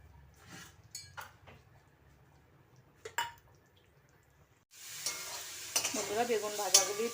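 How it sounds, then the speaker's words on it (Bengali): Fried eggplant pieces stirred in a frying pan with green chillies, a few scattered scrapes and clinks of the utensil, then a louder steady sizzle with stirring sounds toward the end. "বেগুন ভাজাগুলি দিয়ে নাড়াচাড়া করে দিচ্ছি।"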